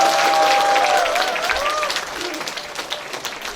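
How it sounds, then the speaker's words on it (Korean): Audience applause at a Democratic Party members' education event in Incheon: dense, loud clapping from a crowd right after a lecture ends, sustained and slowly fading, with a faint voice over it. "여러분 크게 뜨거운 박수로 맞이해 주시고"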